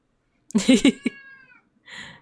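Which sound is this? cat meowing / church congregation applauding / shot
cat meowing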